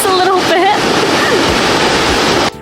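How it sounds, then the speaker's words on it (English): Nachi Waterfall in Japan roars in a dense, continuous rush of falling water heard from a distance. A voice talks over the steady wash. "It's the water coming off of the waterfall."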